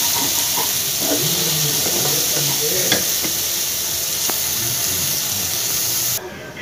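Finely chopped onion frying with ginger garlic in a pan hisses steadily up close, with occasional spatula taps and clinks, before the sound drops off abruptly near the end.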